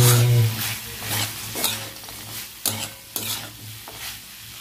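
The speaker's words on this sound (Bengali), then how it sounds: "বড়িগুলো দিয়ে দিতে এবার আমি ভালো করে নেড়ে ছেড়ে নামিয়ে আমার করলা চচ্চড়ি রেসিপিটা হয়ে গেছে" Bitter gourd and potato chorchori with lentil dumplings is stirred in a hot pan, soft sizzling under a series of rhythmic scraping and clanking spoon strokes, close by.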